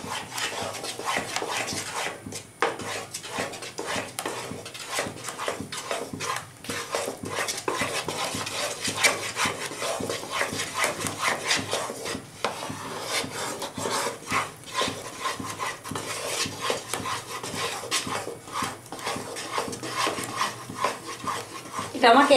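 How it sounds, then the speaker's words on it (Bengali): A spoon scrapes and rubs continuously through a thick powdered milk sandesh mixture in a pan on the stove, a steady gritty stirring that stays close and loud throughout with no pauses. "যতক্ষণ না একটু শুকনো হয়ে আসে ততক্ষণ আমাকে একভাবে এইভাবে নাড়তে হবে।"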